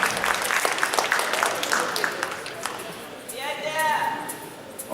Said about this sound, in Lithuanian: Audringais plojimais palaikykime numerį 41.